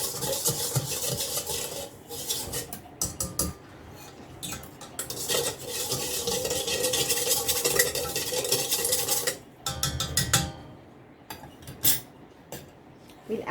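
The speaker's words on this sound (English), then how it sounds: "just give a whisk to our sugar so that it melts." Butter and sugar whisked together in a bowl for a sausage bread roll dough, a steady close scraping and stirring with metal clinks, running continuously and pausing briefly near the end.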